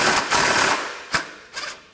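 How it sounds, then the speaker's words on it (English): An impact wrench loosens a nut on a UTV radius arm: a loud, close hammering burst for most of a second, then two short rattling bursts after brief pauses. "I don't like to remove the nut all the way with the impact"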